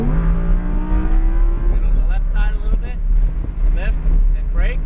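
On a race track, a car's engine rises under throttle with a steady, rising drone, loud and close with wind noise, while a driver talks over it.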